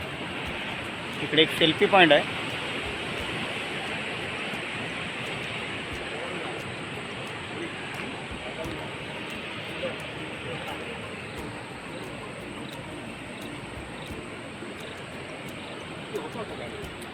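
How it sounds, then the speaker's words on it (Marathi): Sea surf at Devgad beach, heard from a railed viewpoint above the shore near wind turbines, forms a steady broad roar throughout, with someone speaking briefly near the start. "खाली इकडे समुद्र आहे."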